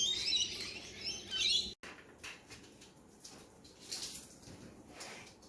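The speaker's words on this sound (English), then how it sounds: "Let's go over here and say hi to these corellas." Corellas call in a busy flock outdoors, giving harsh, high chirps and screeches that are fairly faint and distant over a steady rustling background, with a brief cut partway through.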